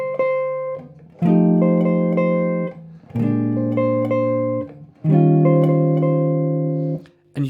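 Jazz piano or keys cycling through sustained dominant chords over a steady C pedal tone, three or four long held chord blocks with brief gaps, clear and alone.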